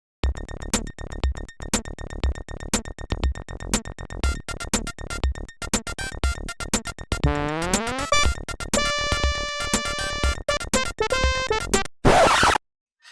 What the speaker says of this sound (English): Now here's Police Quest 2's new theme music.